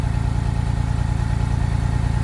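A cheap, smoking Porsche 911 engine idles with a steady, even, loud low rumble and fast regular pulsing, close by and with no talk over it.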